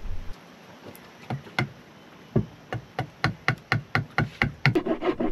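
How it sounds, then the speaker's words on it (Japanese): A coarse Daiso hand file rasps a piece of wood in repeated, fairly loud strokes about two to three per second, speeding into a quicker run toward the end, close by with no talking. "このヤスリは日本のダイソーだったかな、どっかで買ったかなり粗いヤスリなんですけどね。 まあまあ削れます。"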